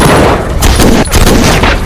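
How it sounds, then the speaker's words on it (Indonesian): Gunfire in a film shootout scene, with loud dense bursts of shots and booms crowding together in a short, close, chaotic barrage. "Terjadilah adegan baku tembak antara Victor dengan beberapa anak buah Alphonse dan Ilir."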